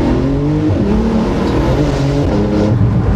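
A car engine revving hard, around three to four thousand rpm, while its wheels slip and spin: a loud, steady close-up engine drone with wavering pitch, heard alone without talk.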